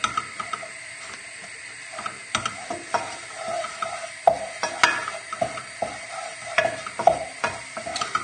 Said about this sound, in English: And then just giving it a stir.